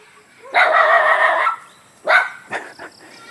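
Dog in the Philippine countryside barking at another dog, one long drawn-out bark followed by a few shorter yips, fairly close in a quiet setting.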